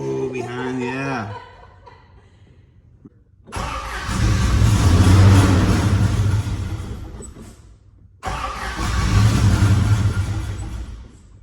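A barn-find Toyota LandCruiser engine cranks in two long bursts with a pause between them, loud and close, and fails to catch; a person chuckles briefly at the start.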